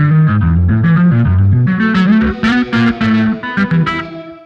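Octave guitar notes doubled by a synthesizer, heard as a fully wet reverb tail: smeared, shimmering sustained tones that swell and overlap in a steady wash, loud and alone.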